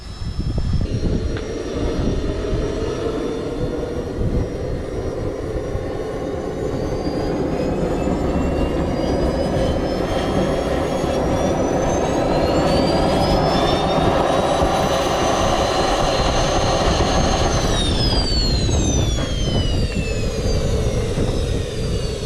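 Small jet engine mounted on a bicycle running steadily with a loud continuous roar and high whine, the pitch rising and then dropping near the end, heard alone with no talking.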